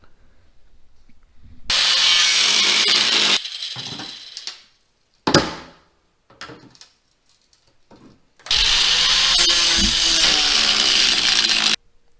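Power saw cutting along a fold line in the rusted rear quarter panel of a Jeep XJ, two loud sustained cutting bursts of a few seconds each, separated by shorter bursts, clanks and pauses, with no talking.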